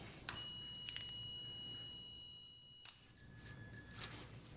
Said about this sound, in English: It should beep 4 times.